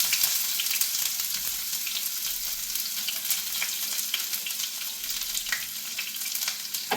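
Onions and curry leaves frying in hot oil in a pan, a steady close crackling sizzle with scattered pops running continuously without talk.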